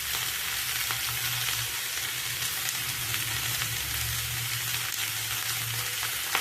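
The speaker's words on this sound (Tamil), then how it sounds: "அப்படியே உப்பு போட்டு வதக்கலாம்" Vegetables sautéing with salt in a pan for sambar, a steady broadband sizzle and fry hiss running throughout at even loudness, with a low hum underneath and no talking.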